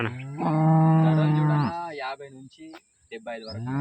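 Cows for sale at a village cattle market give a long, loud, deep moo followed by shorter broken lows and a rising call, close by and clear.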